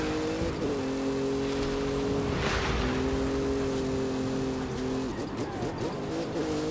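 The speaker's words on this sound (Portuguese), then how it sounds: "Olha a reduzida do carro" Car engine in the video game Forza Horizon 5, held at steady harmonic tones that drop in pitch at about 0.6 s and again near 2.9 s and 5 s as it downshifts, loud and continuous under a broad wind-like rush.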